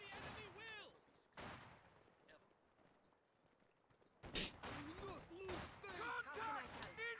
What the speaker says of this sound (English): That's just so much rifle fire.